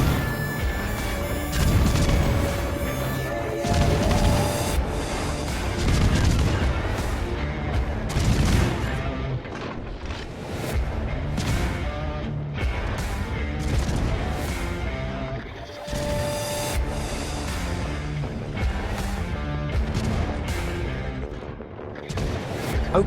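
Warship guns blasting in the World of Warships naval combat game, the German battleship München firing heavy booming salvos and crashing impacts in dense, overlapping succession with a layered battle soundscape and no speech.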